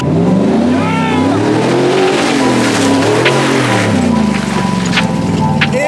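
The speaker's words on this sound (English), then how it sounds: "I'm going to show Harry how it's done and blast through the mud" Small RC truck engine, a Raptor-style prerunner in four-wheel drive, revving and whining up and down as it churns through mud at Fiesta Island, fairly close and continuous with wind and background noise throughout.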